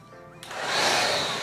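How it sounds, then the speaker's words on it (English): A vacuum cleaner switches on partway through while cleaning a dorm room floor, a sudden loud, steady broadband whoosh that swells and holds after a quiet start. "we just got to vacuum this floor"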